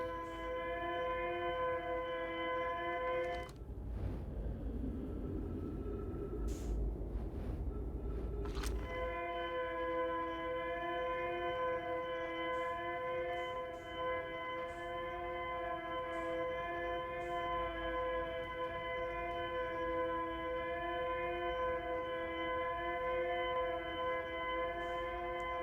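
Eerie distress beacon siren in a horror video game, a sustained droning wail with layered tones that holds steady for the whole stretch, broken by a brief rumbling swell partway through.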